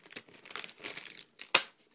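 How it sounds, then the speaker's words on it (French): Soft crinkling of a plastic LEGO Mixels bag being handled, ending in one sharp tearing rip as it is pulled open, close and fairly quiet. "on va ouvrir le sachet"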